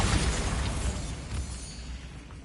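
A Bombarda spell explodes in Hogwarts Legacy with a loud, broad blast that decays slowly over a couple of seconds and leaves a rumbling tail.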